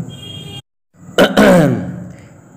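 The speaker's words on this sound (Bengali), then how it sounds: "কেশে গলাটা পরিষ্কার করে নিয়ে উনি বলেন," A man clears his throat with a sharp, coarse cough-like burst after a brief pause, close and fairly loud, the rasp trailing off over about a second.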